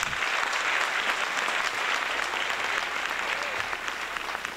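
An audience at a pastry arts competition finale applauds in steady, dense clapping that fills the whole moment, with no voices over it.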